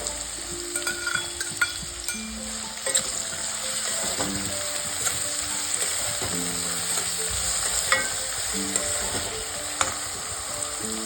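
Onions sizzle steadily in hot oil with cloves and bay leaves, a constant crackling fry broken now and then by soft scrapes and knocks of a utensil against the pan, close and with no voices.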